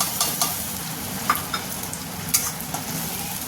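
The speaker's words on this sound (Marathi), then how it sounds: "त्यामध्ये आपण टोमॅटो जो आपण वाटून घेतला ना तो टाकायचा आहे आणि ते पण छान हलवून घ्यायचं आहे" Ground tomato paste frying in a pan for a raw banana kofta curry, a steady sizzle with intermittent scraping clicks of a spoon stirring it, close and unaccompanied by speech.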